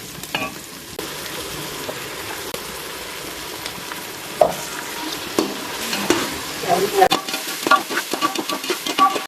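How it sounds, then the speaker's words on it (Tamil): Spiced biryani masala paste sizzles in hot oil in a pan for a mushroom biryani, stirred with scraping strokes that build into louder, busier clatter toward the end; no voices. "பிரியாணி மசாலாவை எடுத்து இது கூட மிக்ஸ் பண்ண போகிறேங்க"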